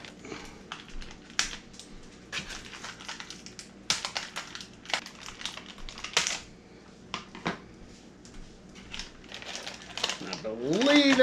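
Scissors snip through plastic ties holding a Mattel He-Man Masters of the Universe Webstor figure in its packaging, giving a run of sharp, close clicks and crunches with plastic rustling between the cuts.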